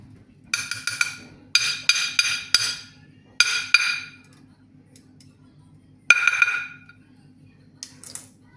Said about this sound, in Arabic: غادي نحكهم بهاد الحكاكه هكا تاع الثومه باش كيجيو زوينين